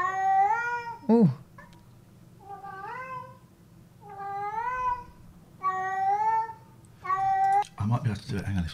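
A cat meows several times in drawn-out, rising and falling calls, close by, with short pauses between them and a brief rustle near the end.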